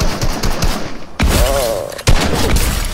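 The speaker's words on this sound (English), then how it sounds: "Ooh, he's shooting." Gunfire in the Fortnite video game during a squads match, with repeated sharp shot bursts under loud continuous game noise, a rising tonal effect in the middle and a few voices talking over it.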